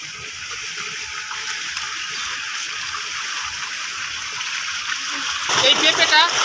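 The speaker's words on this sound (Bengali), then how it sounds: "এই পেঁপেটা সর্বপ্রথম সুন্দর করে ধুয়ে নেই।" Water gushing and splashing over a freshly picked raw papaya outdoors in a jungle, a steady broadband wash that grows louder and more splattery near the end, with no talk.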